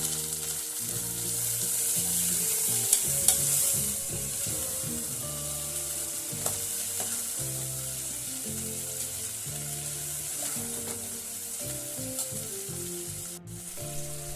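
Pressure-cooked chickpeas, soaked overnight, being stirred into a hot onion tempering, a steady close sizzle with repeated scraping of a spoon around the pan and no voices.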